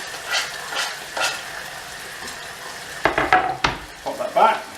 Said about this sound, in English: now you're wondering why I'm frying this instead of grilling it